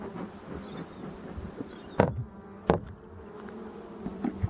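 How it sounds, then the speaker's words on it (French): Black honeybees (Apis mellifera mellifera) hum steadily inside a hive with two frames, a close continuous buzz broken by two sharp knocks or clicks. "on est sur de l'abeille noire"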